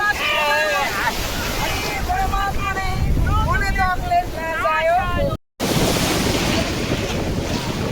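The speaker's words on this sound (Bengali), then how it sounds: "দেখো ঢেউ আসছে, সব পেছনে ভেসে গেল।" Sea waves roll and break at Puri beach in a continuous wash of surf with wind buffeting the microphone, while voices and children's chatter rise over the roar throughout.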